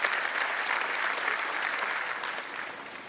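An audience at a seminar on road and bridge construction applauds to welcome minister Nitin Gadkari, a dense, steady clapping from a crowded hall that gradually fades toward the end.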